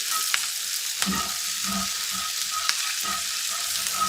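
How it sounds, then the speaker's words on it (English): Venison steaks searing in a very hot pan, a loud constant sizzle with a few sharp ticks and soft scraping knocks of a utensil against the pan. "we're going to sear these steaks quickly"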